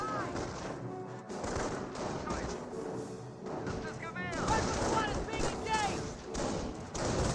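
Rifle and MG42 machine-gun fire in a Company of Heroes battle, repeated sharp shots and bursts scattered through the scene, mostly beneath a commentator talking over the action.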